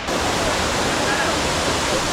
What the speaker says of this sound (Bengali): সামনে হলো একটা ঝর্ণা,